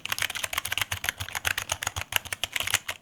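Rapid typing on a G-Lab Keyz Iridium semi-mechanical gaming keyboard, a dense, close run of crisp key clicks and taps in an irregular quick rhythm, heard alone.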